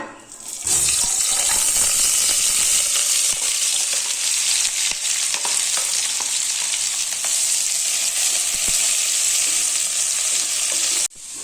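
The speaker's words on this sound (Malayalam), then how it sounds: "നമുക്കിതിലേക്ക് ഒരു 2 സവാള നന്നായിട്ട് സ്ലൈസ് ചെയ്തത് ഇട്ട് കൊടുക്കാം" Two sliced onions dropped into hot oil for a vegetable kurma burst into a loud, bright sizzle that holds steady and close for about ten seconds, with faint stirring scrapes, then cuts off abruptly.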